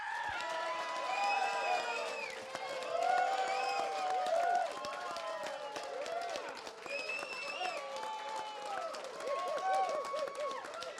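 Wine-debate audience cheering, shouting and applauding together, a loud, sustained crowd roar with high yells and whoops rising and falling throughout.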